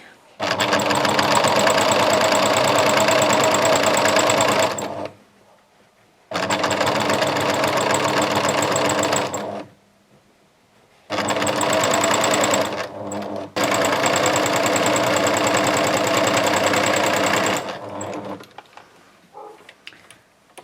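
Sewing machine stitching a large craft tote bag, loud steady motor runs in several long bursts separated by short pauses.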